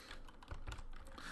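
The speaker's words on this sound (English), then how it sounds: "You're probably wondering why I'm typing so slowly." Slow, uneven typing on a computer keyboard, a handful of soft clicks and taps up close over a low background hiss, with no talk.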